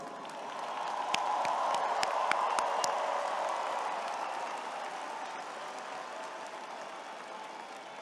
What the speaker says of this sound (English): Aggie applause